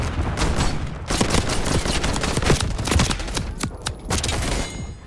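Rapid gunfire in Black Ops 6, dense overlapping bursts of shots and impacts, loud and close with brief gaps between volleys.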